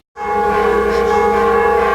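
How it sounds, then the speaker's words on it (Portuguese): Cathedral bells start abruptly and ring out in a loud, sustained peal with rich ringing overtones that hang in the air, with no voices. "esse lindo toque de sinos, né, da nossa catedral"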